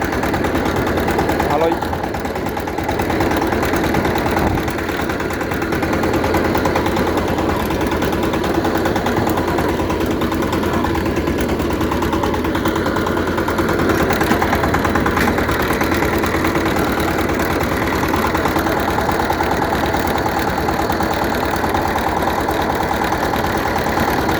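Power tiller engine running steadily while tilling soft field soil, a continuous mid-pitched drone with a knocking undertone that stays loud throughout, with a voice talking over it.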